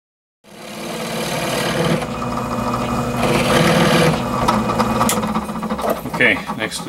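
A power drill whirs steadily into wood at close range, its motor droning for several seconds with a slight rise in pitch near the end.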